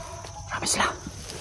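Dogs bark and yip in a short burst under a voice speaking, the barks coming in a quick cluster mid-way at moderate loudness against a noisy background.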